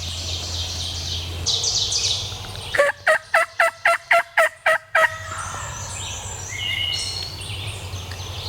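A wild turkey gobbles once, a rapid burst of about eight sharp rattling pulses, loud and fairly close, set against a steady background of other birds chirping outdoors.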